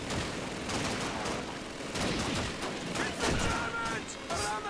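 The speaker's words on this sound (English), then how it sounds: "The enemies are crazy with grenades in this game" Grenade explosions and heavy gunfire from Call of Duty 2, set in a Russian battle, come as a dense run of bursts and booms, with a player talking over the combat.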